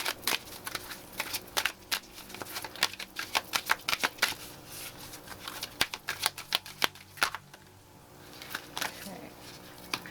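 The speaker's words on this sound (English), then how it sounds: "So now we're going to shuffle some more cards from this deck" Oracle cards are shuffled up close in quick bursts of crisp riffling clicks, separated by brief quiet pauses.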